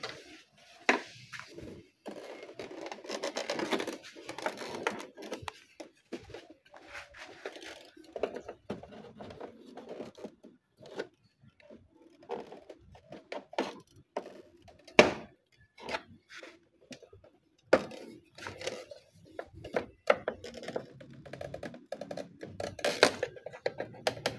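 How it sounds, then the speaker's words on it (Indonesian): A small screwdriver pries fragile plastic clips loose, giving sparse close-up clicks, scrapes and taps with quiet gaps between them. "Jadi kita hati-hati pakai obeng kecil seperti ini. Kita lepas pelan-pelan."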